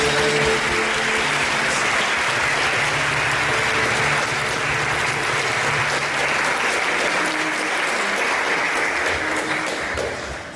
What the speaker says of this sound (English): could you help me and give him a really nice round of applause?